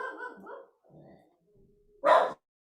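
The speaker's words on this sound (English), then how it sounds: "Sorry, my dog gets very excited whenever she hears anything outside." Indoors, a pet dog gives a short run of excited yips and whimpers, then one loud, sharp bark, set off by noises outside.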